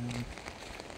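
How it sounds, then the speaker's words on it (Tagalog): Heavy rain falling in a town plaza, a steady close hiss of drops on surfaces for the whole moment. "Silakas ang ulan."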